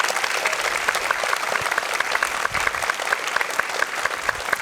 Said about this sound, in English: So I just want to thank David and give David a round of applause, everybody.